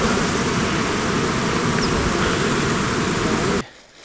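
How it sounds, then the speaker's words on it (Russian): A swarm of bees buzzes near beehives at a taiga honey apiary in the Altai region. The buzzing is a dense, loud, continuous drone that cuts off sharply near the end, leaving near silence. "отдыхают под жужжание пчелиного роя"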